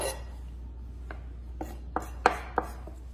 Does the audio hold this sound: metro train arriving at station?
no